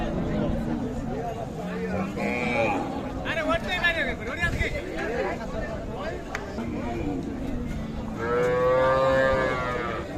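Cows, including a Sahiwal calf and a cow, moo loudly several times amid a busy crowd at the Ambari cattle market, with people talking throughout and a long drawn-out moo near the end.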